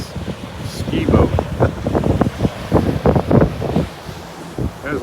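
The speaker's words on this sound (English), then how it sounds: "There's a lot of wind out here." Sea wind at Boynton Inlet gusts, roaring and buffeting against the microphone in a steady, loud rush, with muffled voices partly buried underneath.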